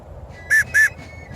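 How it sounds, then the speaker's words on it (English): A sergeant's whistle from Virginia regiment reenactment gear, blown in two short, shrill, evenly spaced blasts at close range over a quiet background. "I'm a sergeant, so I'm going to need a whistle."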